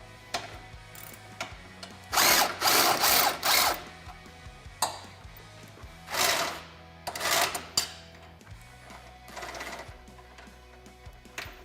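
Power tool spinning off radius arm bolts on the frame side of a Kawasaki Teryx KRX 1000, several short whirring bursts separated by pauses, close, with faint background hum.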